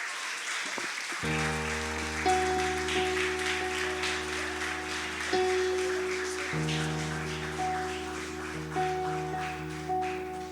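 A church congregation claps together, steady dense applause throughout, accompanied by sustained organ or keyboard chords underneath.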